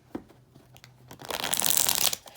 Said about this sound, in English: You shuffle the deck one time.